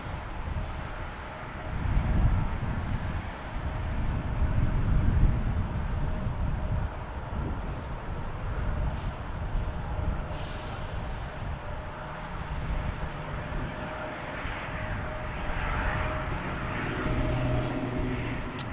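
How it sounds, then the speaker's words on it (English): A Southwest airliner departing Salt Lake City airport in wind and snow, a broad steady jet roar rising and sustaining over the length, heard from a distance with wind rumble on the microphone. "Another Southwest departure."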